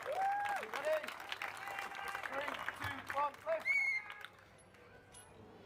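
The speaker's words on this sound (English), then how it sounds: "Michaela Pearson, round of applause!" A crowd at the Yorkshire Strongest strongman competition applauds an athlete attempting an 80 kilo axle, the clapping swelling and fading in bursts while an announcer talks over it throughout.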